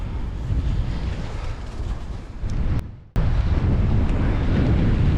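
Strong wind buffets the microphone outdoors on cold hills, a heavy rumbling roar that drops briefly to a lull and then surges back, with no voices.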